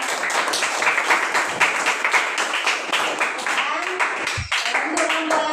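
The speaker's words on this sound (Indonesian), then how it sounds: "Tepuk tangan untuk kelompok." Students in a classroom clap for a presenting group, a lively steady round of applause under overlapping voices, tapering off toward the end as a voice speaks.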